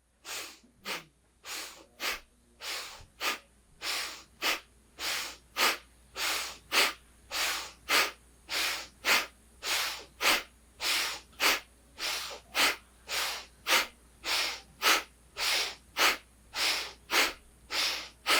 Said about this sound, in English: So strong, firm, almost like breath of fire breaths. That's what's going to move the energy through the nose.